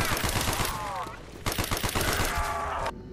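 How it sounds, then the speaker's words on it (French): Video game gunfire rattles in rapid automatic bursts, loud and close, with a short pause between two long volleys. "écoutez le bruit de l'arme."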